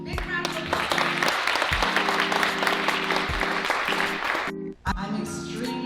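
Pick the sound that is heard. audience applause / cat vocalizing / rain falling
audience applause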